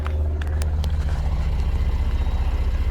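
A 2015 Mercedes GLK350 4matic with a direct-injection engine idles, a steady low rumbling drone from the engine and exhaust with a faint rhythmic ticking, a few sharp clicks near the start.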